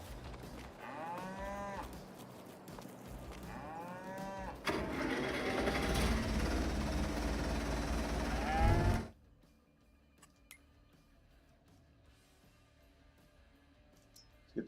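Cows in Farming Simulator 22 give several drawn-out moos close by, first over a quieter background and then over a loud steady rumble, before everything cuts to near silence.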